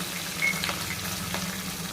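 Sliced green chillies frying in hot oil in a pan for avarekalu upma, a steady close sizzle with faint crackles throughout.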